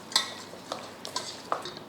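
Soft, intermittent scraping and clinking of a spoon mixing chicken with ginger-garlic paste, salt and spices in a bowl, a few separate strokes, quiet and close with no talking.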